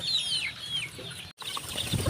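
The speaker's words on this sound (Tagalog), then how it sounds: "Samahan nyo ako guys magpakain ng mga alaga kong manok." Native chickens cluck and chatter close by in a busy cluster at feeding time, with a brief silent gap midway before the clucking resumes, mixed with higher chirps.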